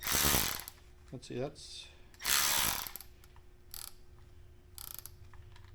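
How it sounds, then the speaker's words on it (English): Bursts of ratchet wrench clicking, a few quick rasping runs separated by pauses, close and fairly quiet, with someone briefly speaking in between. "If we can find a ratchet."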